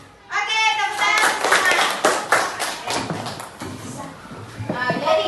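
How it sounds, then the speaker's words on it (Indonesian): A class of children claps hands together in a quick, uneven burst of rhythmic slaps that rises, thins out and picks up again, with young voices calling out over it. "Oke, tepuk tangan"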